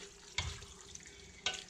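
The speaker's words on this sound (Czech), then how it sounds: "orestuju" A flour roux fries in a pan while being stirred for a pork kidney sauce, with a steady close sizzle and two sharper scraping clinks.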